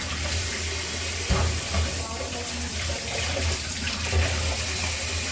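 Crabs are rinsed under running tap water in a home kitchen. The water pours in a steady splashing stream, with a few louder splashes and knocks as they are handled, and a faint voice in the background.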